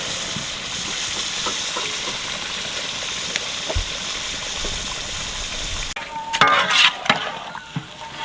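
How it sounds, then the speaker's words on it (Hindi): Chicken legs fry in masala in a large kadhai for a big village-style korma, giving a continuous wet sizzle that turns into louder bursts of stirring and scraping toward the end. "मसाला हमारा अच्छे से भुन गया है और अब हम चिकन ऐड करेंगे।"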